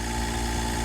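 AC service tool on a Chrysler 300 SRT8 running steadily with a constant mechanical hum and vibration, a close, even drone that does not change across the short stretch.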